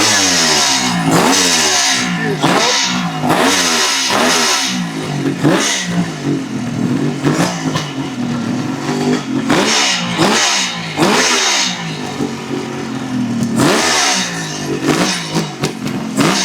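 A 1974 Kawasaki H2 750 Mach IV two-stroke motorcycle fires up and revs, close and loud, with repeated blipping throttle surges rising and falling against a rattly idle.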